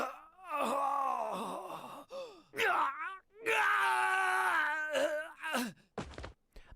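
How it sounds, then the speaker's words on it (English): A game character, a recruit in Persona 4 Arena Ultimax, cries out in agony, with long, strained wailing groans and moans, loud and close, broken by short gasping pauses and ending with a sharp burst. "The recruit fell to the ground with an agonized scream."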